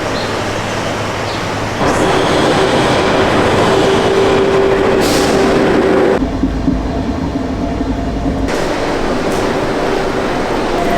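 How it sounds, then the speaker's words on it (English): Steady, loud rumble of a high-speed train heading to Disneyland Paris heard from inside a carriage, with rolling rail noise, a faint whine and shifts in tone as it passes through sections. "I love how quick the high-speed train is"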